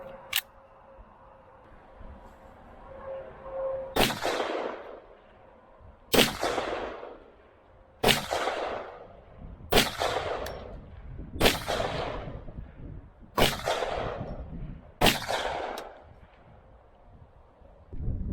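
Seven sharp, loud Desert Eagle pistol shots ring out one by one at roughly two-second intervals, each with a quick decaying echo, no talking in between.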